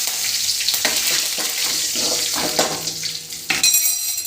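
Curry leaves crackle and spit in hot oil for an egg gravy, a loud nearby sizzle punctuated by repeated spatula scrapes and knocks against the pan.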